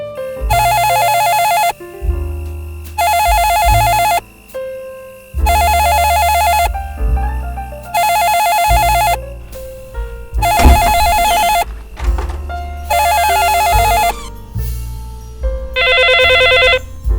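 Electronic telephone ringing in repeated bursts, each shrill trilling ring lasting about a second and a half with short gaps, loud and close, with a final higher-pitched ring at the end.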